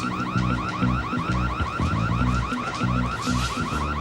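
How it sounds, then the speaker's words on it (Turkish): An alarm goes off and blares without pause, a loud repeating electronic warble pulsing steadily in rapid cycles with nothing else heard over it. "alarm ötüyor"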